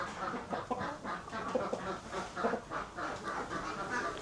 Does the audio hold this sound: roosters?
yes